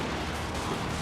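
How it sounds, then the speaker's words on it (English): Battlefield missile volleys in Total War: Warhammer fill a short stretch with dense, continuous rumbling bursts of fire, loud and unbroken. "Oh, look at all the missiles firing."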